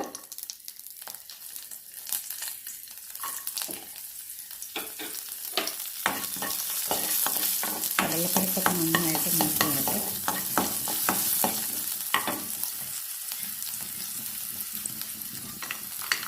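Mustard seeds and asafoetida fry in hot oil in a pan for lemon rice, giving a continuous sizzle dotted with rapid crackling pops and small spits that thicken midway and then ease, close and fairly quiet.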